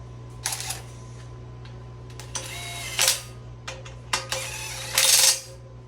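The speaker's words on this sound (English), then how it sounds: "let's grab our bearing caps. And let's get these on here." Metal engine main bearing caps being fitted during an engine rebuild: several sharp, close metallic clinks and a few brief scraping slides, spaced irregularly against a steady low background hum.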